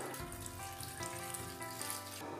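Water poured into a blender holding sliced ginger, a faint, continuous splashing trickle with a soft hiss throughout.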